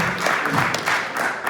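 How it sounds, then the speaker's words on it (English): A brief burst of audience applause, many hands clapping together in a dense, steady patter at a lecture about Chanukah. "I got a nice round of applause."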